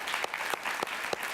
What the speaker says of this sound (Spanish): lo recibimos con un fuerte y cariñoso aplauso